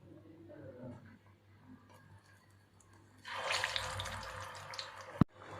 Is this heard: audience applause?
no